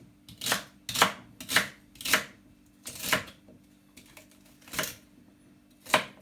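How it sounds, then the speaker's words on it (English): Knife chopping celery stalks on a cutting board, eight distinct crisp thuds at an irregular rhythm, close and clear with no talking. "So we're going to chop this rest of celery inside of it"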